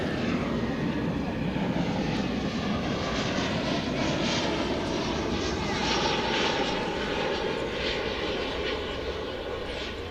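At DFW Airport, a Boeing 777 airliner passes with a continuous broad engine roar that stays loud and steady throughout, sounding fairly close, with no talk audible above it.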